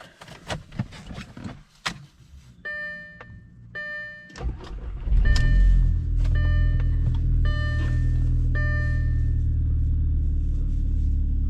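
A few clicks and chimes, then a car engine cranks and catches after new spark plugs and coil packs, settling into a steady, smooth idle rumble.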